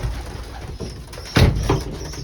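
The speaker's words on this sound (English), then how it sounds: "feeding the birds. Afternoon feed." Pigeons in a loft coo during an afternoon feeding, a couple of low throaty calls standing out near mid-clip over a steady rustle of birds eating.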